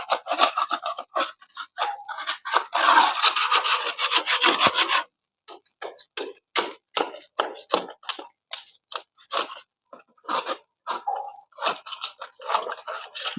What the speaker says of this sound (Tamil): பட்டி தகட வச்சு இப்படி சொரண்டுறாங்க பார்த்தீங்களா?